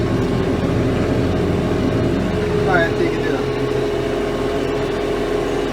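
Farm tractor engine idling steadily at close range in open fields during sowing, a continuous low drone throughout with a brief faint whine midway.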